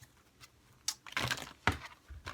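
Soft shuffling and riffling of tarot cards in a few quick bursts, with quiet pauses between, close by and with no one talking.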